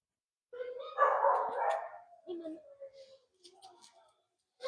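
Dogs in an artificial-turf daycare yard give a few short barks and yelping calls in scattered bursts, close and fairly clear, with brief quiet gaps and a voice mixed in.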